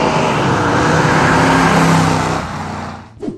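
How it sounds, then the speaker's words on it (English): A 1971 Ford Mustang Boss 351 with a 351 cubic inch Cleveland V8 roars loudly and steadily at close range, then the engine note fades and drops away near the end. "The 1971 Ford Mustang Boss 351 arrived with a 351 cubic inch Cleveland V8"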